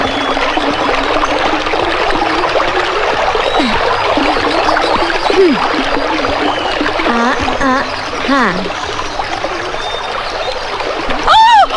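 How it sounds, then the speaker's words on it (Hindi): People wade barefoot across a cold river, with steady stream flow and close splashes and sloshing steps; speech can be heard over the water. "नदी को पार जो करना पड़ेगा।"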